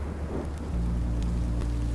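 Steady rain pours with a deep rumble of thunder rolling underneath in the Minecraft: Story Mode video game, loud and continuous with no voices.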